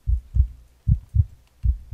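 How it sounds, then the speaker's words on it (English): Heartbeat sound effect in a video game, heard alone as three slow, deep double thumps, each lub-dub pair loud and close with short silent gaps between. "It's so quiet that I can hear the sound of my heartbeat."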